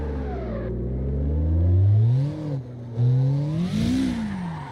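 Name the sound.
drift car engine revving and sliding in CarX Drift video game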